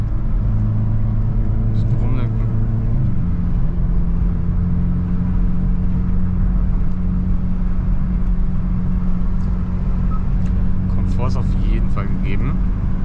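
A Hyundai i30 N fitted with lowering springs accelerates, its engine a steady, close rumble that shifts in pitch partway through while someone talks over it.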